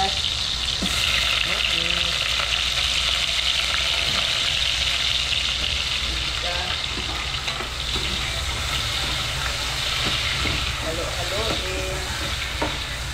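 Onion fries in a pan with garlic, a continuous close sizzle over a low, steady hum, with a brief spoken word.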